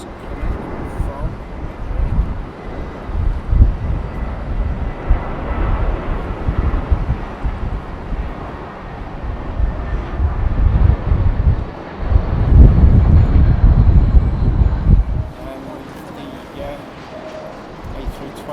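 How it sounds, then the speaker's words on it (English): A British Airways Airbus A320 landing at London Heathrow, a loud, low, continuous rumble with buffeting wind noise that swells and then drops away near the end, with a voice speaking over it. "British Airways A320, and this one has just come in from"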